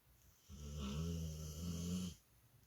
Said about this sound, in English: that's actually my dog's snoring